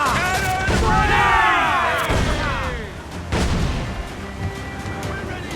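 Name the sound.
ship cannons firing in Assassin's Creed Black Flag video game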